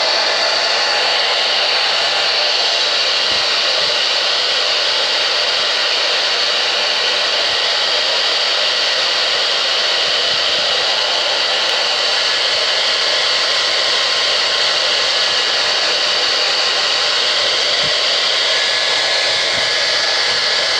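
Hair dryer on a cool setting drying a thick Halloween make-up wound on an arm: a steady, loud, unbroken airy whir holding constant from start to finish with no other sounds.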